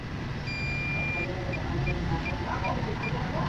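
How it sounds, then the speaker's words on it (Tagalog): Digital weighing scale with a low battery sounding its warning, a faint, thin electronic beep tone followed by several brief, quieter beeps under room noise and soft talking. "Yung beep na sound galing yan sa kanyang signal na nagpapahiwatig na siya po ay lubat na."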